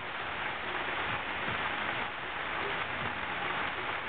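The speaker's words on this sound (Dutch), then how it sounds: "we net een tropisch regenbuitje. En dan regent het heel hard" Heavy tropical rain shower on Yap in Micronesia, near a traditional little house by a hotel bar, a steady dense hiss of pouring rain filling the scene evenly throughout, with no talk.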